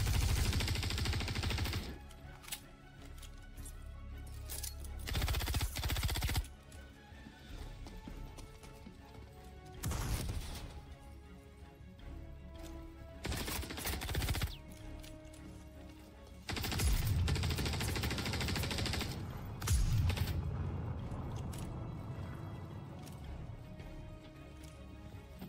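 Star Citizen gunfire comes in repeated rapid bursts of automatic shots with quieter gaps between, moderately close and mostly free of speech.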